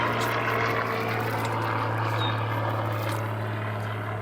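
A propeller airplane drones steadily overhead outdoors beside beehives, a continuous engine hum with a low tonal buzz, moderately loud and unbroken throughout, with no talking.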